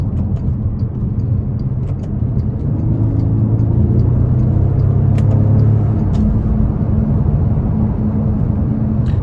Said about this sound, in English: you can really push this 12-cylinder twin turbocharged engine to its limits